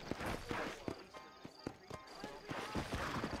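Horse hooves clip-clopping in a steady rhythmic gait in the Red Dead Redemption video game, moderately close, with someone talking over the hoofbeats.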